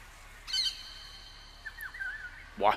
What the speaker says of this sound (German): der Vogel war laut.